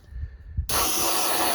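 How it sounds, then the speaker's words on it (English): An aerosol can sprays onto the carburetor of a Farmall 140 tractor, a sudden close, loud steady hiss that starts abruptly after quiet rustling and continues to the end. "Spray a little bit more of that now that we actually got some."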